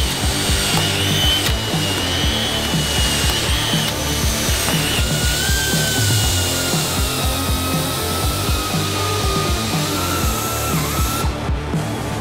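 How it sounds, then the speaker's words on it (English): A power drill whirs steadily and loudly for several seconds, with a grinding rasp as it bites into a wide-body kit front bumper and pitch shifts between passes. "and start drilling"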